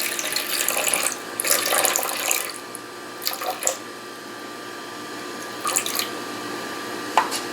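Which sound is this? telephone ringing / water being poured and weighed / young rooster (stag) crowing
water being poured and weighed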